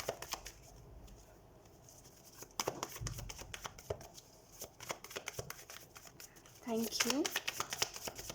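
Tarot cards being shuffled and drawn by hand, soft papery riffling and slides with a brisker flurry of card snaps near the end, close and quiet beneath someone speaking softly in Hindi.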